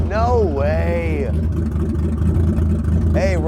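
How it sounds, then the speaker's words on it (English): A BMW E34 535i, running again after a crank no-start fault, gives two quick throttle blips that rise and fall, then settles into a steady, low engine hum close to the microphone. "we're idling at like 800 RPMs again, which is what it should be."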